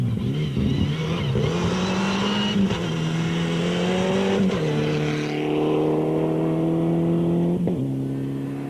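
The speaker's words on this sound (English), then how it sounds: "Cape Townians Richard Bem and Grant Sinclair bring their Sasol Lancer Evo 6 to the finish 7 seconds adrift of Rueda." A Mitsubishi Lancer Evo 6 rally car races to the stage finish at a 2005 rally, its engine revving loud and steady through several gear changes, pitch climbing and dropping as it passes close by.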